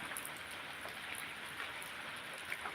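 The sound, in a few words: rain falling in a hilly area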